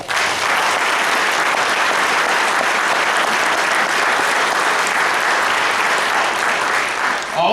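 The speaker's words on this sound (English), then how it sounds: "I'd like to give them all a round of applause." Loud, sustained applause from a crowd at a high school Hall of Fame ceremony, a dense continuous roar of clapping filling the hall for several seconds.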